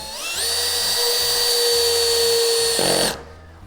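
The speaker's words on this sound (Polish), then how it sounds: "Do wkręcania e, tego typu tematów polecam Wam ustawić sobie sprzęgło we wkrętarce" A cordless screwdriver drives a screw into an interior door frame, its motor whining steadily for about three seconds with a rising pitch at the start, then cutting off abruptly.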